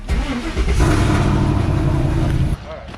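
An LS-swapped Mercedes with a new muffler and a resonator moved forward fires up and settles into a loud, steady rumble, which cuts off near the end.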